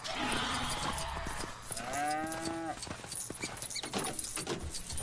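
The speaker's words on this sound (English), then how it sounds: "I'm riding on the cow," A cow being ridden in the Lego Jurassic World video game, with a clear lowing moo near the middle over steady clip-clop hoof steps and game ambience.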